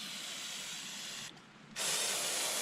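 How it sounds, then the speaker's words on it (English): Degreaser sprayed from a can onto a greasy timing cover of a Honda D16Y8 engine, a steady loud hiss that briefly drops off for a moment, then resumes stronger, with no talking. "We'll just spray some of this on there"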